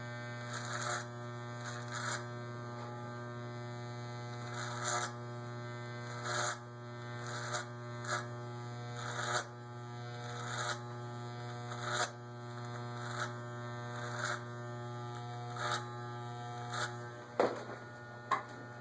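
Electric hair clippers with the adjustable blade set flat buzz steadily and close up while cutting a neck taper fade, the constant hum broken by repeated brief strokes through the hair, with no talking.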